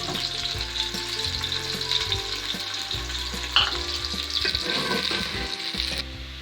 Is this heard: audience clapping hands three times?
no